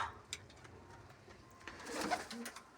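Soft pigeon coos repeat close by, low murmuring calls with a few faint flutters and rustles in the background.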